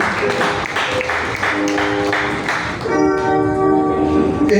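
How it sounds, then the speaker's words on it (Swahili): Church congregation clapping during a child dedication service, a dense steady patter of many hands that continues as sustained ringing musical tones join in over the second half. "Nitapigie Bwana makofi mazuri."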